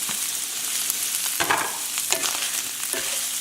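Chopped pepper and scallions fry in a pan with a bright, crackling sizzle, punctuated by a few scraping stirs. No voices are heard.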